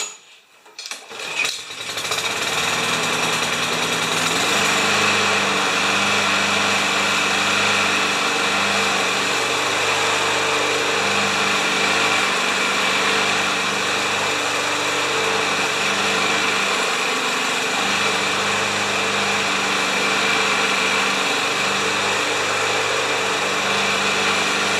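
A Honda Quadra Cut lawn mower engine runs continuously at a steady, loud drone after starting up, with no talking.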